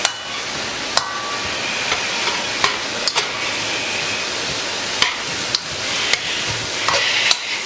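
A Mexican chilli mixture is tossed and stirred in a hot frying pan, with a steady sizzle and repeated sharp clicks of utensil against the pan, close and fairly loud, with no talking.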